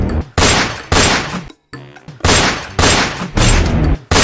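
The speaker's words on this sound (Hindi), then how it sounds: "सरदार फौरन संदूक के पीछे जा छिपा और बंदूक से गोली" Several loud, near bursts of gunfire ring out from a gang leader's gun as he fires from behind a chest, in rapid volleys separated by brief gaps and one short pause.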